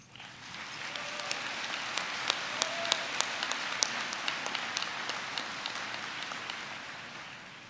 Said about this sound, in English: give all of our hardworking teachers a round of applause